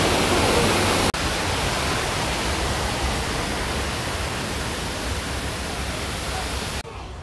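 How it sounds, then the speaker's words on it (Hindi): A small waterfall and stream in a Chinese-style garden in Shenzhen give a steady, loud broadband rush of falling water that holds almost unbroken for the whole stretch. "यहाँ आगे भी कुछ छोटा सा वाटरफॉल और वाटर स्ट्रीम है।"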